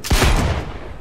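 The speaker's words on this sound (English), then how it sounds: "And then we have the Crusher. This is a sniper rifle." A single heavy shot from the Crusher sniper rifle in the video game Cyberpunk 2077, a loud booming blast with a short decaying tail.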